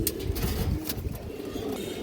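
Pigeons of a high-quality fancy breed coo in a low, throaty rhythm, close and fairly loud, with soft repeated pulses through the short span and no talking.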